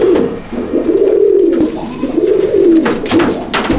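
Imported Teddy pigeons coo steadily and close by in a cage, low throaty rolling calls repeating in overlapping waves with no pause throughout.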